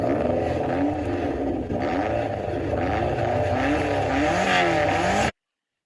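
Mazda Miata engine revving from a played recording, a loud, steady run of rising and falling revs and shifts that stops abruptly after about five seconds, with no talking.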